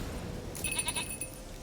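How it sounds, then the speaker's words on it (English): A goat named Princess bleats once in The Witcher 3 video game, a short wavering cry that is fairly faint over a low background hum. "And here's Princess the goat."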